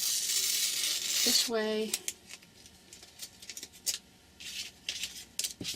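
A sheet of paper is torn for a Halloween journal in one loud, sustained rip, followed by a few small paper rustles and a brief spoken phrase.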